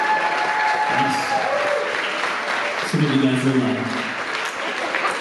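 An audience at a concert band's bon voyage concert applauds parents and family members, a steady broad patter of clapping that continues while a speaker talks over it.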